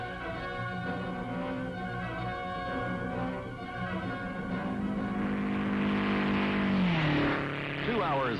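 An MG record car runs at around 142 mph on the Bonneville Salt Flats in 1956, its engine drone holding a steady pitch before rising and then falling away near the end, with a brief voice present.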